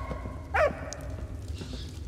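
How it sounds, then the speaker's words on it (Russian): A dog in the World War I video game Valiant Hearts: The Great War gives a single short bark, fairly faint over steady game ambience. "Какого фига наш пес не может перейти через этот мостик?"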